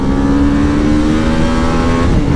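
A motorbike engine runs loud and close in a steady, throaty drone, holding an even rev without a break.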